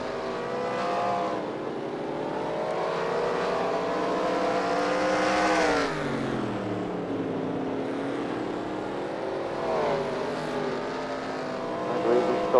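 Race cars in a racing video game roll onto pit road, their engines a steady, loud, overlapping drone whose pitch slides up and down as they slow and pull in, with a brief swell near the end.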